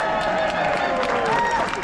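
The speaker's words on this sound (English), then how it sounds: "I just want to give him a round of applause for being here" Applause from a protest crowd against antisemitism, steady clapping and crowd noise filling the air with a wavering tone over it.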